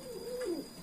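A racing pigeon gives a single soft, brief coo near its loft, faint against a quiet background.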